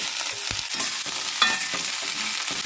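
Cut vegetables, including ridge gourd, eggplant and potato, are stirred and fried in a pan, a steady sizzle broken by several scraping strokes of a spatula, close and moderately loud.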